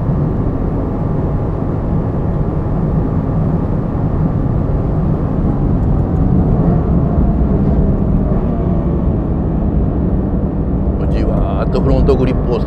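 A Toyota GR86 engine at full throttle on the Suzuka circuit roars steadily and loud throughout, a dense continuous drone with a slight rise toward the end.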